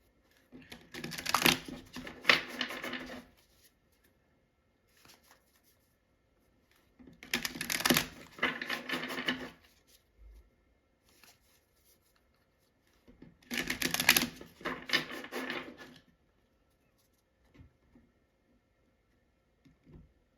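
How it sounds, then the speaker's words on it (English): Three bursts of tarot cards being shuffled, each a few seconds of crisp riffling and rustling, separated by quiet pauses, close up with no talking. "So let's shuffle the cards."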